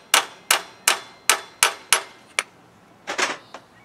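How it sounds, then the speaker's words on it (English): Hammer taps seat a timing belt pulley on an engine, with seven sharp metallic strikes at a steady pace, then a short cluster of quicker, lighter knocks, close and loud against a quiet room. "So we're going to get our beating on tool. Just give it a couple of taps."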